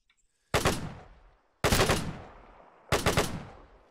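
Rifle shots in Arma 3 with a pre-WW2 squad: three loud, sharp reports spaced about a second apart, each trailing off in a long echoing decay across open ground.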